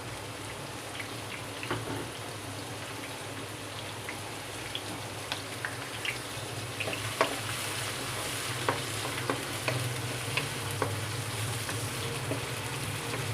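Chopped onion frying in oil in a kadhai gives a steady, close sizzle and crackle, broken by scattered sharp pops and the odd stir throughout, with no one speaking.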